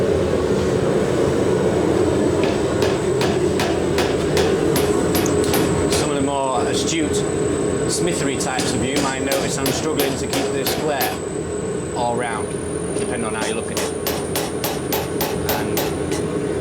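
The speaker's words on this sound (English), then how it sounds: "enjoy a little bit of power hammering" Power hammer pounding steel while forging a fire poker: a rapid, steady train of loud metallic blows close by, pausing briefly and then resuming over a constant machine rumble.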